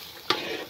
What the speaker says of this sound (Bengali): আর যে চুলায় রান্না করতেছি দেখো